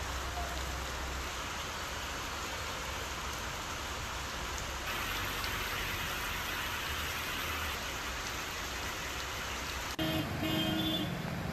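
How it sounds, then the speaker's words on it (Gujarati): A rain shower falling in Halol, a dense continuous patter of drops on surfaces, steady and fairly close, with a brief change in texture near the end. "હાલોલના કેટલાક વિસ્તારોમાં વરસાદનું ઝાપટા સાથે આગમન થયું"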